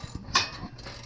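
A ratchet tightens bolts on a car exhaust during a muffler delete install, giving a short burst of faint mechanical clicks and one sharper metallic tick, up close.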